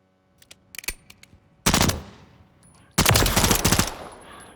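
A video game gun fires in press mode: a few quick clicks, then two loud close bursts of rapid gunfire, each trailing off into a decaying echo.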